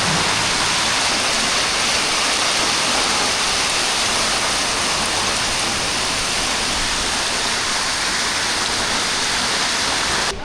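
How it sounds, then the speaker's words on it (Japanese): Heavy rain and gusty wind in the Indian hill town of Darjeeling, a loud, continuous broadband roar of downpour and gusts close by, steady throughout with no voices. "大雨と風で 物がどんどん飛んでくる。"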